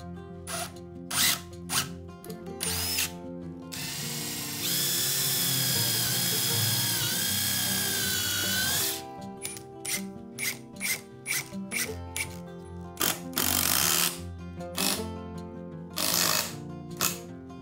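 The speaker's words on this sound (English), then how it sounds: "I glue each side rail made of stud lumber to the upper rail, then screw them using 120mm screws." A power drill drives 120mm screws through stud-lumber side rails into the upper rail of a straight-grain cedar low bed frame, giving one steady whir of about four seconds between lighter clicks and knocks, with music playing throughout.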